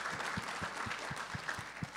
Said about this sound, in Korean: 박수를 한번 치주시면 감사하겠습니다.